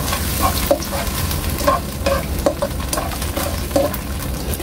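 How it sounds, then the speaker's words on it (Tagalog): A slurry being stirred in a bowl before it goes into a salmon mushroom sauce, with steady scraping and clinking strokes at close range over a low background hiss. "Haluin lang natin bago natin ibuhos."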